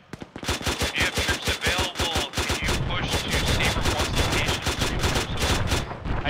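Rapid machine gun fire in Arma 3, a long run of loud, evenly spaced bursts that continues almost without a break through the whole stretch.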